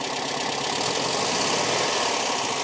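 A VW 1500 Type III engine runs steadily and loudly close by, holding an even, rough idle-like drone with a faint knocking texture and no clear rise in revs.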